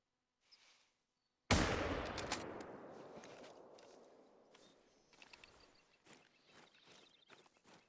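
A single loud rifle shot in a video game bear hunt cracks out close by and rings into a long, slowly fading echo, followed by faint rustling footsteps.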